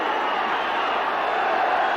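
A huge football crowd massed behind the goal at a 1981 Scottish Premier Division derby between Dundee United and Dundee roars steadily as a corner kick is taken, a broad, continuous wash of distant voices with no break.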